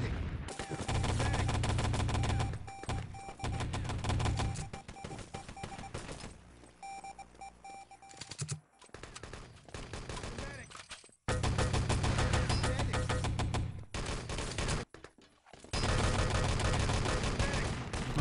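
Gunfire in the shooter Wolfenstein: Enemy Territory during a competitive match, fast automatic bursts and scattered shots with beeping game sounds, broken by short silent gaps, while a commentator talks over it.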